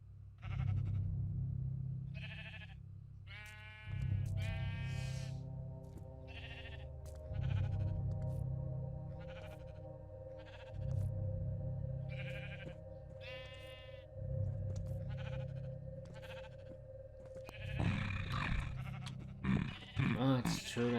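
Sheep bleat repeatedly in the video game Origins of Olympus, a series of loud, evenly spaced calls over a low droning game soundtrack, with talking heard in the background.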